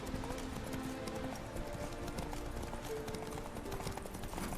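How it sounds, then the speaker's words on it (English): Horse hooves clip-clop steadily as a horse is ridden in The Witcher 3 video game, a continuous rhythmic beat mixed with game ambience at moderate level. "conducir un caballo, lo difícil que es, de verdad"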